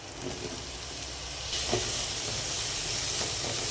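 Sliced mushrooms sautéing in a pan with onion, garlic and ginger for mushroom soup make a steady hiss that swells into a fuller, louder sizzle halfway through. No one talks.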